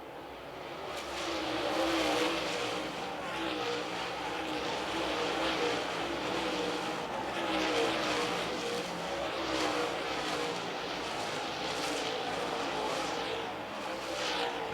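Super late model race cars roar around Lancaster Motor Speedway in a steady, dense engine drone, with cars swelling past in waves at moderate distance and no voices over the noise.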